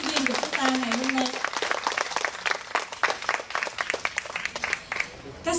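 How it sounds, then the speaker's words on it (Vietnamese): Parents in a school hall applaud the teachers at a closing ceremony. The clapping is steady and sustained, with a voice speaking over it at the start. "xin quý vị phụ huynh cho một tràng pháo tay thiệt lớn cho tất cả các giáo viên của chúng ta ngày hôm nay"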